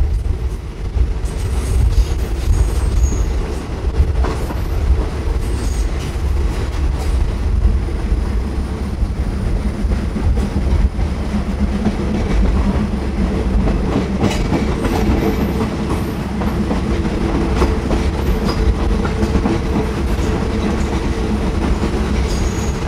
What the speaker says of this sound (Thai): ขบวนรถก็จะเข้าชานชาลาฝั่งด้านในนะ